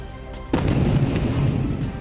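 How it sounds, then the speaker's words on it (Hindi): An explosion from a kamikaze drone strike on a building in Moscow erupts as one sudden heavy boom, then a sustained roaring rumble of blast noise. "हमले के बाद जोरदार धमाका हुआ"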